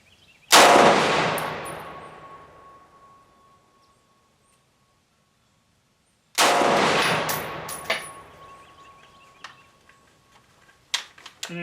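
Two loud single gunshots from a Southern Tactical Cetme C classic rifle, each with a long ringing decay, spaced several seconds apart and followed by faint metallic clinks.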